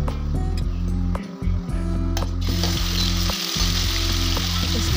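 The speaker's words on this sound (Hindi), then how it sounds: "तेल गरम हो जाने के बाद मैंने इसमें साबुत धनिया, साबुत जीरा, इसको मिक्स कर दिया है।" Whole coriander seeds and cumin fry in hot oil in a kadai, giving a steady close sizzle with faint rhythmic clicking and stirring over it.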